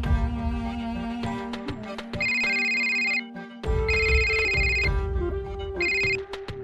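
A mobile phone ringtone plays loudly in repeated melodic bursts, three bright electronic phrases with short gaps, over a dramatic background music bed.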